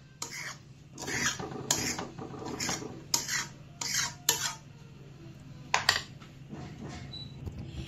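A spoon stirs boiling milk in a metal pot, scraping and clinking in several short bursts of a few seconds each, close up with no talking.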